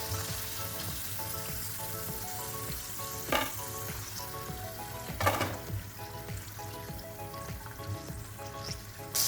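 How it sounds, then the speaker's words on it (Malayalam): Slices of elephant foot yam and egg sizzle and crackle steadily in a frying pan, with a couple of sharper spatters and utensil scrapes over the continuous frying hiss. "ബാക്കിയുള്ളത് ഫ്രൈ ചെയ്തെടുക്കാം."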